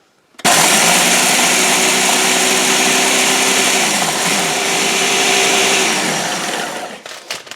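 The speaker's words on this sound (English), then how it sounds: "And we're going to grind it." Electric grinder whirs steadily while grinding material to mix into tomato plant soil, a loud close continuous motor drone that starts abruptly, holds for several seconds with slight pitch shifts, then winds down.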